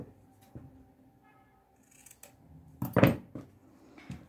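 Scissors snipping through ribbon while a bow is finished, a few faint clicks and then one sharper cut near the end, close and quiet, with no talking.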